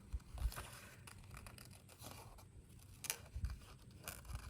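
Scissors snip paper for a 3D card, cutting out a small mouse's tail: quiet, close, irregular snips with soft paper rustling between them.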